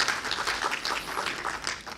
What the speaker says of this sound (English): a big round of applause for AICHE